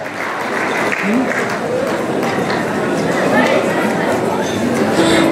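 A wedding crowd in Uzbekistan claps loudly and continuously for the bride and groom, with murmured chatter from the people around.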